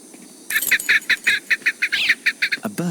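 Bird hidden in a tree in the game Sherlock Holmes: Nemesis, singing a quick run of about fifteen bright, evenly spaced chirping notes over a quiet background, ending with a couple of swooping calls.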